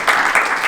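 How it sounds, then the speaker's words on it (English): Audience applause for Adrian Younge at a master class, a brief steady burst of many hands clapping nearby without a break. "Let's get another hand clap for Adrian Younge."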